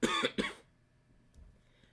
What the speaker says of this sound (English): As then she suddenly coughs.